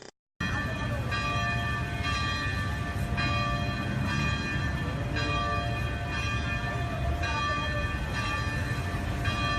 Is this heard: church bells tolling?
yes